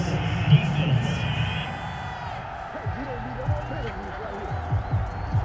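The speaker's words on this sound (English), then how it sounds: "Well, the crowd doesn't like that." Displeased stadium crowd in Madden NFL 22, Raiders vs. Cowboys, reacting to a penalty flag on third down: a sustained roar of boos and murmurs with a few louder shouts, running steadily under commentator talk.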